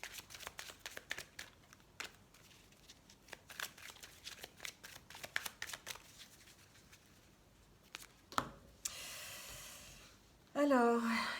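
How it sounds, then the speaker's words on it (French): A deck of tarot cards is cut and shuffled close up, with a long run of quick crisp riffles and taps, followed by a soft breath or sigh and a short burst of louder noise at the end. "Alors, on va couper le jeu."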